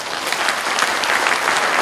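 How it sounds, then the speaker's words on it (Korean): Warm, dense applause from a crowd at a Korean Democratic Party provincial joint campaign rally, steady and loud for a couple of seconds with no talking. "모두 10분께 우리 마음을 담아서 뜨거운 격려와 성원의 박수를 다시"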